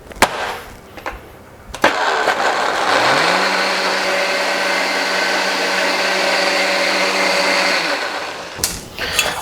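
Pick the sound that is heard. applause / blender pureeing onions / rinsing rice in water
blender pureeing onions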